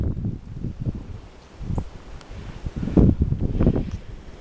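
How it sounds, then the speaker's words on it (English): Gusty wind blows outdoors in short rushes and buffets against the microphone. Faint rustling can be heard, with no talking. "Look at the wind out here."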